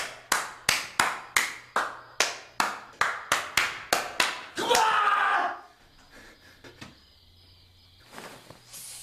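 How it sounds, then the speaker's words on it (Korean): Sharp, evenly spaced hand claps, about fifteen in a steady rhythm, close and crisp, followed by a burst of noisy commotion and then quiet room tone with faint sounds. "박수를 쳤습니다"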